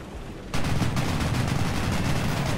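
Rapid autocannon bursts from a German Wirbelwind anti-aircraft tank in War Thunder ground battles, a dense, loud string of shots starting abruptly after a short quieter stretch and continuing steadily.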